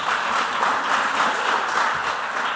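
An audience at a junior high school quiz semi-final claps steadily for the competing teams, a moderate wash of applause from a crowd a little way off, with no talk over it.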